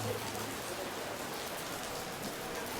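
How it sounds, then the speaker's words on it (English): Steady rain falls across an outdoor university commencement ceremony, a dense even hiss of drops on surfaces that holds constant throughout, with no voices standing out. "Maybe Josh knew the rain was coming."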